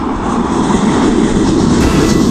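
A train rolls past on the railway in Lisbon near the Padrão dos Descobrimentos, a loud, close, continuous rumble of wheels and carriages.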